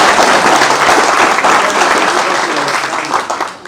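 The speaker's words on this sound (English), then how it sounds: "Give yourselves a round of applause." A drama festival audience applauds loudly and continuously, a dense, close wash of many clapping hands that tapers slightly toward the end.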